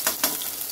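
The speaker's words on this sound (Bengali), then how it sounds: "আর এখানে কড়াই চাপিয়ে দিয়েছি, তেল দিয়ে দিচ্ছি, আর এখানে পেঁয়াজ আর লঙ্কা দিয়ে দিচ্ছি।" Onion and chili sizzling in hot oil in a wok, a steady bright crackle with two quick louder bursts near the start, close and alone.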